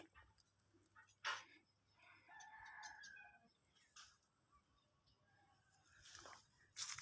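Fowl calls in a quiet rural outdoor setting, including a rooster's crow and clucking, faint and intermittent with soft background noise.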